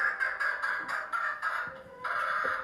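A pet chicken vocalizes loudly in a repeated, insistent run of clucking calls, close and continuous with brief pauses, heard alone without talk.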